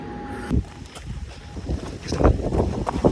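Gusty wind at a campground on a blustery day, a steady low roar buffeting the microphone and swelling in strength toward the end, with no voices.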